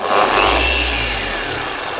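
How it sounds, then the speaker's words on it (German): A Rupes Mark3 car polishing machine runs continuously at full speed, giving a loud, steady, close-up whir and hum with a high whining tone, with no one talking. "Ich kann nur an- oder ausschalten, das heißt Vollgas oder nichts."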